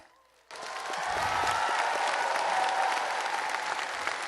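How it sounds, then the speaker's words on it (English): An audience at a university new student convocation bursts into loud, sustained applause and cheering after a brief quiet moment, a dense wash of clapping that holds steady to the end. "Let's give a cheer for resident advisors"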